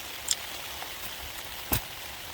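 Rain falling on the outside of a tent while wild camping in Lofoten, Norway: a steady soft hiss of drops with a couple of louder isolated pats against the fabric.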